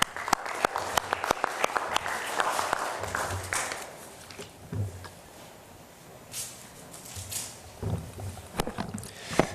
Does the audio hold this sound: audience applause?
yes